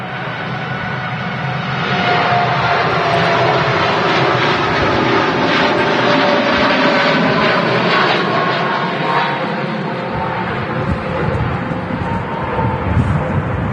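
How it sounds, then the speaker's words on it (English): A TUI Boeing 787 Dreamliner airliner taking off at Manchester Airport, a loud, sustained jet-engine roar that builds over the first seconds and holds steady, heard from the airfield with broadband rumble and whine. "TUI Dreamliner."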